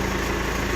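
A Cat backhoe's diesel engine idles steadily after a cold start, running rich, a close, continuous low throbbing rumble with no talk.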